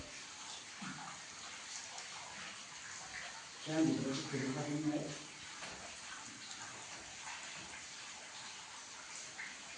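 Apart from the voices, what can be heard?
water flowing inside a cave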